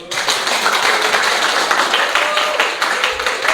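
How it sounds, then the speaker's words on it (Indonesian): A classroom of students claps together, a brief burst of dense applause that starts abruptly and stays fairly even for a few seconds. "Tepuk tangan dong"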